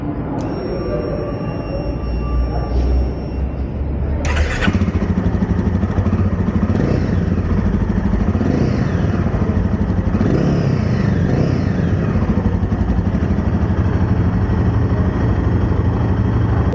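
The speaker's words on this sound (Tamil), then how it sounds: "வண்டியோட எக்ஸாஸ்ட் நோட் தான் மெயினாக நான் கேட்கணுன்ட்டே இருந்தது." A Royal Enfield Himalayan 450 motorcycle starts up close by, its engine catching after a brief crank and settling into a steady, loud exhaust note that holds for the rest of the recording.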